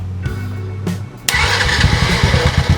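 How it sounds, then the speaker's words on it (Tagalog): A motorcycle starter motor cranks the engine in two short bursts, then catches into a loud, steady, close idle with a rough pulsing rhythm. "Papakita ko na gumagana yung ating starter motor."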